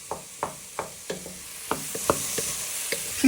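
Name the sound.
wooden spoon squashing and stirring prawns in a sizzling pan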